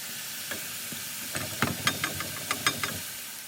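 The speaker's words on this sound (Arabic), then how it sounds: "صافي كنبداو نلوحو الشباكيه ديالنا. الزيت سخنات." Chebakia pastries hit hot oil and fry, a close bubbling sizzle with a cluster of sharp crackling pops bursting in the middle and fading toward the end, no voices present.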